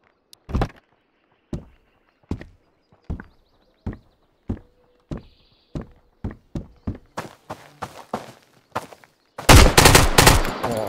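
Gunfire from an AKS rifle in the survival shooter Road to Vostok: a string of sharp single shots at steady spacing that quicken toward the end, then break into a dense, loud burst of rapid fire.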